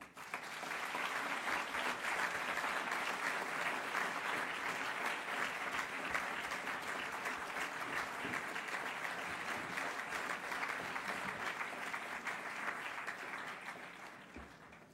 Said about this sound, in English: a warm applause for Laurent Bélanger-Lowe